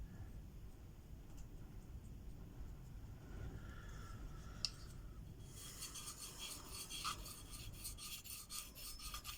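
Steady rasping scrape of a knife blade stroked across a Venev diamond sharpening stone, continuous back-and-forth rubbing with a brighter, finer hiss in the latter half, close and moderately quiet with no talking.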